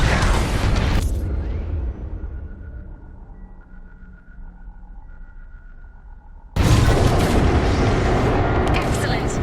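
Heavy bomb explosions in the video game Star Wars Squadrons: a loud blast opens, fades into a low rumble with faint tones, then a second massive boom erupts and roars on, with voices present.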